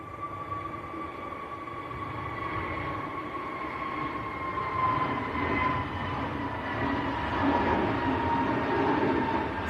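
An easyJet Airbus A321neo airliner takes off at Manchester Airport: a steady, broad jet roar carrying a high whining tone, gradually swelling louder as it rolls, with no voices.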